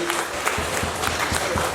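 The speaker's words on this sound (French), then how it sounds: "Accompagnons-les à leur place sous vos acclamations." An audience in a hall gives a short burst of applause at a ceremony, dense clapping that stays steady and fairly near, with no talking over it.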